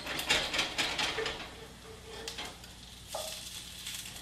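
Sweet potato patties browning in a hot pan sizzle and crackle loudly at first, then settle into a softer steady fry, with a brief scrape near the end.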